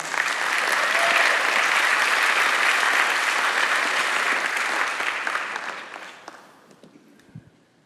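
A church congregation applauds steadily for several seconds, then the clapping thins out and fades to a few scattered claps.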